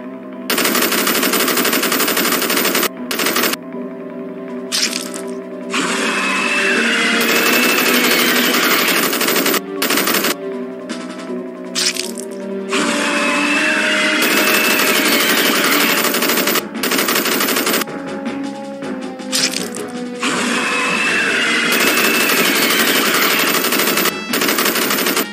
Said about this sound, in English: Everyone, open fire.